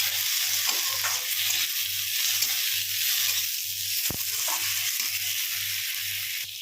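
Tomatoes frying and being stirred in a pan for dhaba-style dum aloo, with a steady loud sizzle and repeated rhythmic scraping of a spoon and one sharp knock, and no talk.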